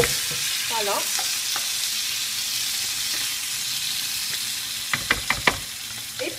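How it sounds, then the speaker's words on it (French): Beef fries in a tagine with a little water, a loud steady sizzle and bubbling hiss. A few quick utensil taps come near the end, and a voice briefly speaks over it. "ma viande est en train de frire"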